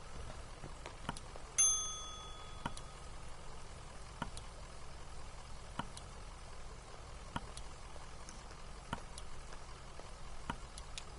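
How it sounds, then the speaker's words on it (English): A small bell rings once, bright and clear, in the Kentucky Route Zero video game. A quiet ambient hum sits under it, and soft rhythmic ticks continue throughout. "Let's ring the bell."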